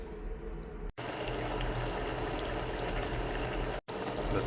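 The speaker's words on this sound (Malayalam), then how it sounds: "കറി തിളച്ചുകൊണ്ടിരിക്കുന്നു." A pot of dried fish curry made with green tomato and coconut oil bubbles steadily on the boil, a continuous close bubbling with two brief dropouts.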